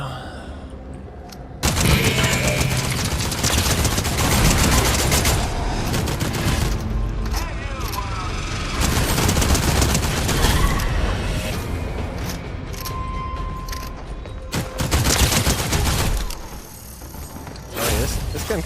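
Sustained bursts of video game gunfire crackle almost nonstop at high volume, with rapid volleys and a few brief pauses, under occasional talk.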